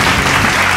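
Loud, steady applause from a crowd fills the whole short moment as a dense, even roar of clapping with no break.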